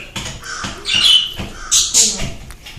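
A loose bird squawks harshly indoors at a shelter, giving several loud, close, raspy calls in quick succession, with no talking.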